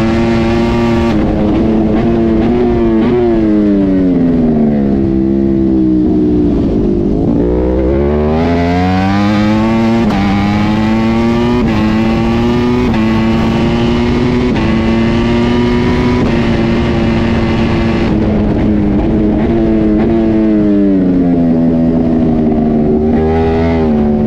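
A Trophy 1000 racing motorcycle laps the Imola circuit in race 2, its engine loud and continuous, rising and falling in pitch through gear changes and braking before revving hard again.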